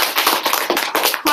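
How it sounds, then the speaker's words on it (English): A classroom of students gives a short burst of applause, dense and close clapping that is loud for about a second and trails off. "go ahead and give a round of applause"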